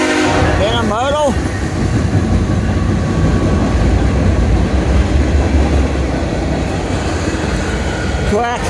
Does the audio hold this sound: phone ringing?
no